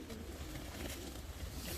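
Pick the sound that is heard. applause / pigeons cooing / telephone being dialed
pigeons cooing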